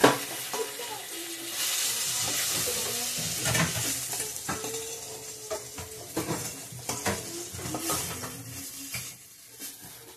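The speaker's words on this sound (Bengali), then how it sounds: "তো অর্ধেকটা বেগুন ভাজা আমার হয়ে গেছে" Eggplant slices frying in a pan in a Bangladeshi home kitchen: a close, crackling sizzle broken by repeated stirring and scraping, with occasional clinks of utensils against the pan.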